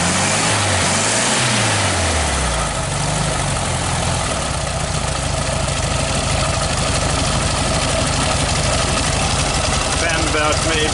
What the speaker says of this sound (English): Picks up rev really well,